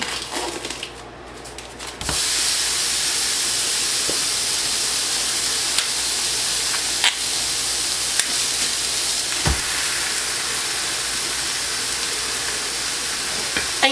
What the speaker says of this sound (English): So add the ground beef to your pan.